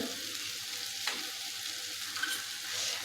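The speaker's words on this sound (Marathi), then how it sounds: "आता हे सर्व मसाले ही दोन ते तीन मिनिट चांगले परतून घेऊया" Kashmiri red chilli powder, turmeric and coriander powder frying in a pan, a faint continuous sizzle with a few light stirring scrapes, close but quiet.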